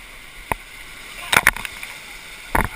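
A whitewater raft crew digs paddles into the water, making a few short, sharp splashing strokes spaced irregularly, with voices faintly present in the background.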